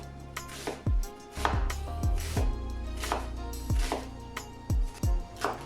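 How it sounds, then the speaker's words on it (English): An onion is chopped with a knife on a cutting board, heard as a close, steady run of firm thudding strikes roughly every half second, each with a short crunch. "we gonna start off with a whole onion that we simply gonna cut in half and then simply just chop up"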